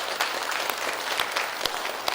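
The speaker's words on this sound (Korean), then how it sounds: "영광의 박수 올려드립니다." A church congregation claps together during a Sunday morning service, a continuous, moderately loud wash of many hands with a few sharper individual claps standing out.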